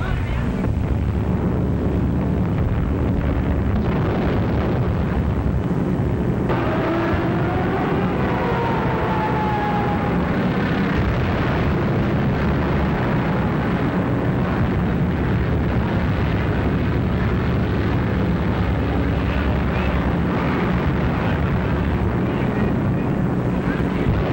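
Wartime bombing raid sounds, a loud sustained roar of aircraft engines and wind-like rumble with heavy low booms throughout, thick and unbroken, with a faint tone rising and falling midway.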